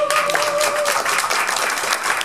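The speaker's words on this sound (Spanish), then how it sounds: "Por favor, un fuerte aplauso a los suizos." Audience applause at a live concert in a Paris club, dense clapping throughout from a close crowd with a brief voice or tone near the start.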